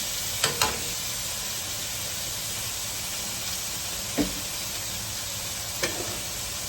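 Chicken and cabbage in grape seed oil sizzle steadily in a hot pan, a constant frying hiss broken by a few sharp scrapes and clacks of a utensil stirring the pieces.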